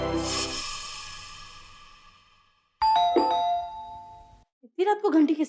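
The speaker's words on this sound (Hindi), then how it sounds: "इतनी रात को घंटी किसने बजाई?" A doorbell chimes loudly with a long ringing decay, then a second ding-dong tone sounds, followed by a brief burst of voices.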